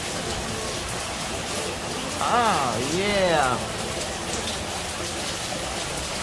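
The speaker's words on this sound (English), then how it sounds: "I just wanted to show y'all this Gambian rain." Heavy rainy-season rain in The Gambia pours steadily as a broad hiss throughout, with a person speaking briefly over it midway.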